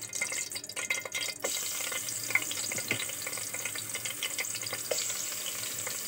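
Garlic fries in onion-flavoured oil for koshari sauce, a low, continuous sizzle with a few sharp clinks and taps of a spoon in the pot, without speech.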